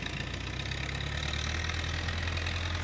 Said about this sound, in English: some motorized vehicles going by at this time, but they'll pass.